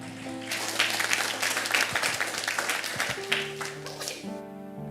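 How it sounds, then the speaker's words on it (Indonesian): Congregation applauding during a church service, a dense wash of many hands clapping steadily throughout, with sustained organ or keyboard tones underneath and a few voices. "Tepuk tangan."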